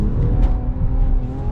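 A 2021 Infiniti Q50 400 Red Sport revs hard, its exhaust a loud, close, sustained roar with rising and falling engine pitch and no talking over it.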